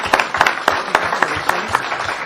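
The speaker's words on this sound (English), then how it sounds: "which I think deserves a round of applause" Short round of applause at a county board meeting honoring a retiring employee after 45 years of service, steady hand clapping from a modest indoor group, fairly loud and close.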